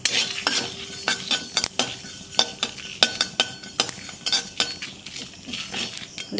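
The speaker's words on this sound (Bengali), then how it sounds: "এই 4টি উপকরণকে আমি ভালো করে একটু ড্রাই রোস্ট করে নেব।" Whole coriander and cumin seeds dry roasting in a pan, with a steady run of light clinks and scrapes from stirring, a faint crackle underneath and no talking.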